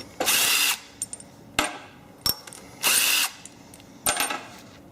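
Power tool loosening the head bolts on a Kohler Command V-twin engine: five or six sharp, loud whirring bursts of about half a second each, separated by short pauses, with no talking.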